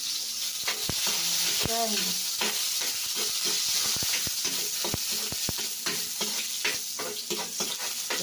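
Garlic sizzling in a little cooking oil in a pan, a steady hissing fry running throughout, broken by sharp scraping clicks of a utensil stirring at irregular moments, with one brief spoken word.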